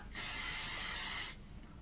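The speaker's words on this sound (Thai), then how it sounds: "แล้วเนื้อสเปรย์เขาฉีดง่ายมากคุณแม่ มันเป็นละอองฝอยๆ แบบนี้เลย" An Icelerskin sunscreen spray is released as a fine mist in one smooth, close hiss lasting about a second, with a sharp start and a quick fade.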